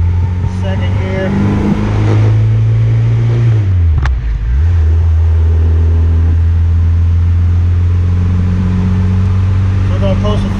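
A tuned 450-plus horsepower GSR car engine pulls in second gear at part throttle, a loud close drone that rises, dips briefly at a shift, then climbs steadily again, with a voice speaking over it.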